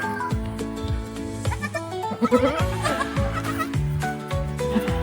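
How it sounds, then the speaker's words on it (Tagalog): Baby goats bleat repeatedly in high, wavering cries, several overlapping calls close by with short gaps between them. "sumusunod na sa akin yung ano, mga maliliit na kambing"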